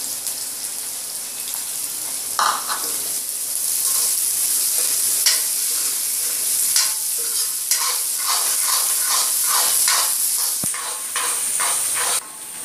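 Cabbage and capsicum stir-frying for noodles: a steady, loud sizzle and hiss with repeated scraping stirs and clinks throughout, close up, no talking.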